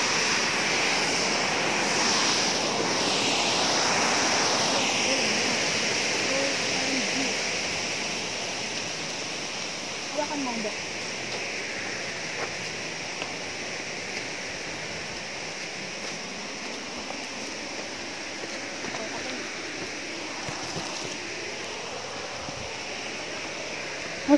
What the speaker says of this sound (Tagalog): nakakarinig na ako ng lagaslas ng tubig